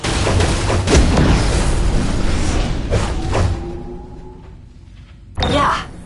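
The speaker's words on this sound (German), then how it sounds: "Ja, die Kanone fällt." A cannon falls and crashes in DC Universe Online on PS4: heavy booms and metallic thuds tumble over the first few seconds, a quieter lull follows, then a final loud impact burst near the end.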